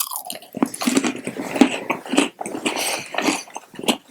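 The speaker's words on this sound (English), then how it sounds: "Okay, I'm gonna bite, crunch." Repeated crunchy bites and chewing of a Brazilian snack, close and wet-sounding mouth noises in an uneven rhythm, with no talk over them.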